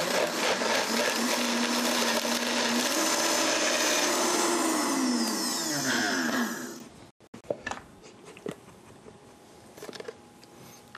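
A blender purees fresh mango into cream with a loud, continuous whirring grind for about seven seconds, then cuts off and leaves only faint clatter.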